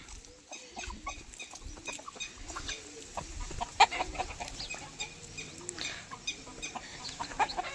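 Chickens sitting in the sun cluck softly and steadily nearby, a low murmur of hens with an occasional sharper call, no talking.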